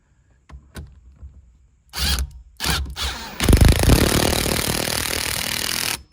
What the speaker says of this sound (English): let's put this nut on